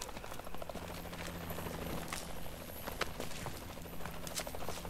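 A helicopter idles in Call of Duty Advanced Warfare, its rotor giving a steady rhythmic thudding chop under a low engine drone, with scattered clicks and brief noises over it.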